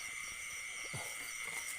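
Frogs croaking at night in a rural Thai wetland while out frog hunting, a few low croaks scattered over a constant high-pitched insect drone, fairly distant and continuous.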